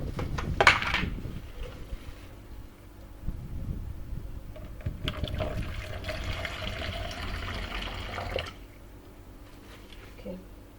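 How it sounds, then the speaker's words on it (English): Distilled water poured into a measuring container for cold process soap making: a brief splash and clatter at the start, then a steady trickling pour through the middle that cuts off, with a small clink near the end. "I'm going to measure out now my water that I'll be using, and this water that I'm using is distilled water."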